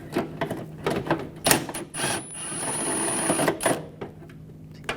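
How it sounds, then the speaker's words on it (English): A 10mm socket wrench takes nuts off inside the front fender well of a 2004-2009 Audi A4 Quattro, giving close, rapid ratcheting clicks in short runs with a brief whine and handling noises. "Using my 10mm socket."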